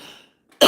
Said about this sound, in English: I cannot get rid of this cough.